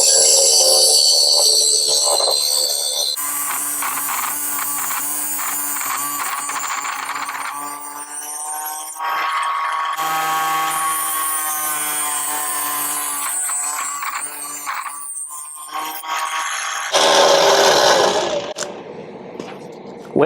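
A tiny table saw cuts into a 3/4 inch board, a loud high whining blade that bites in, bogs and rises again in several long passes, with short gaps between cuts and no talking.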